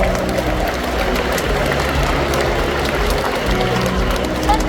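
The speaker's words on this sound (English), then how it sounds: "Yeah, you guys can give her a round of applause." Steady crowd applause fills an outdoor SeaWorld San Antonio stadium after an orca's behavior at a killer whale show, loud and continuous throughout with no pauses.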